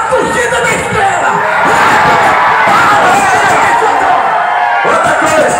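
Football supporters of Estrela do Som's Torcida Radiola cheer and chant together, a loud, sustained roar of many voices with shouts rising over it, dipping briefly near the end.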